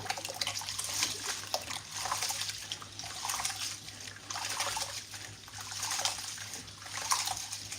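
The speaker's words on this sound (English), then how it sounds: "So now I'm just washing my rice." Rice being washed by hand in a bowl of water while cooking jollof rice: steady swishing and trickling water with soft pulsing surges, close and moderately loud, no talking.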